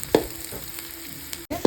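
Onions frying in a pan for spicy mutton boti sukka, a quiet close sizzle broken by a few sharp stirring scrapes over a brief moment.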